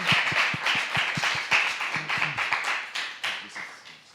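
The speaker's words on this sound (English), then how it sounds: "we have to give a big applause to our two guests" A small live-event audience applauds two guest speakers, beginning with distinct rhythmic claps close by that blend into a thinner scattered patter which tapers off, with faint voices near the end.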